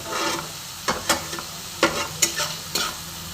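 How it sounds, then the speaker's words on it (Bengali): Spice masala fries in oil, a steady sizzle broken by several sharp scraping strokes of a spoon stirring the pan, close and clear with no talking. "তো দেখো আমার মশলাটা ভাজা ভাজা হয়ে গেছে"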